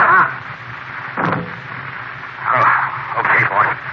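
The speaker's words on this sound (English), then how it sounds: "Here you are, Whitey. Use this silencer." A silenced gunshot in an old-time radio mystery-horror drama, heard as a single muffled, thin burst partway through, with actors' voices speaking before and after it.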